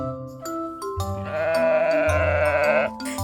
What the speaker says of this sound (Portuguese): Olha a ovelha! Como será que a ovelha faz?